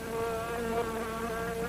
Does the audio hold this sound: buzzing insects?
yes